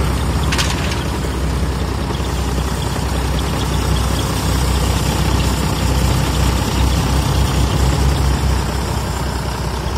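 An Iseki 1085 tractor engine idles steadily up close, a loud, even low rumble with a knocking beat that runs without a break. No speech.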